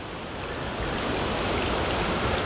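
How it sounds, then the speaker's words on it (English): A small trickling stream beside the Appalachian Trail, a steady close wash of running water that fills the whole clip evenly, with no voices. "here's a nice little trickle of a stream that I just filled up my water bottles with."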